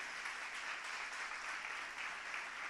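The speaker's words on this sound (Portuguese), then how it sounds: "Vamos aplaudir Jesus." A church congregation applauds together, a sustained even patter of many hands clapping at moderate distance, fairly soft and steady throughout.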